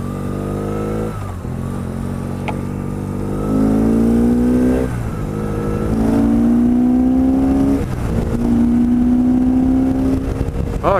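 A modified BMW R1200C cruiser engine tuned for extra power revs up in several rising surges, each climbing in pitch and falling back to a loud, close, throaty idle.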